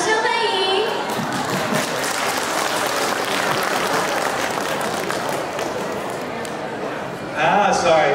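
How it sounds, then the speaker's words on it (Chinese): An audience at a charity fundraising gala in Guangdong claps steadily in sustained, dense applause, with a voice speaking briefly at the start and again at the end. "掌声欢迎"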